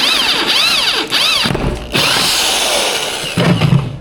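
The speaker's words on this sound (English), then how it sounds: "might as well start drilling the other one at the same time." A power drill whines at high speed in several sustained bursts, its pitch rising and falling as it bites, with brief pauses between runs.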